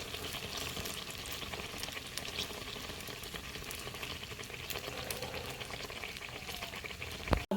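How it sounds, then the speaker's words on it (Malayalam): Appam bobbing in hot coconut oil, giving off a continuous bubbling, crackling fry that holds at a low even level and ends with a sharp knock. "അപ്പം നമുക്ക് തിരിച്ചിട്ട് കൊടുക്കാം എണ്ണയിൽ. രണ്ട് ഭാഗം ഒരേപോലെ വെന്ത് കിട്ടും."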